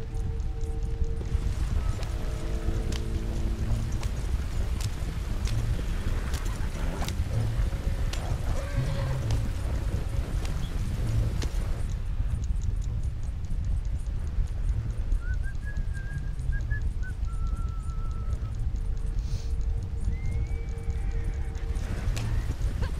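Horses in Fallout 76 trot past with a rhythmic clip-clop of hooves and an occasional whinny, fairly close and steady over a low outdoor rumble, with no one speaking.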